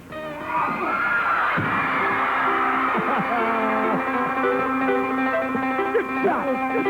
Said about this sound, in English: they recreate the scene to screams of delight from the audience